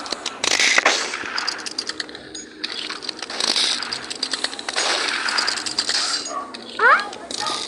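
Gunfire from a weapon in a video game, heard as clusters of sharp, rapid shots and metallic clinks over a busy game soundscape, with someone talking over much of it.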